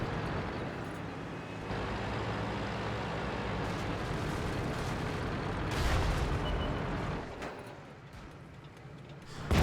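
Leopard PTA tank in World of Tanks fires its cannon: a sharp, loud boom bursts out around the middle of a steady low engine rumble, and a second harsh blast hits at the very end.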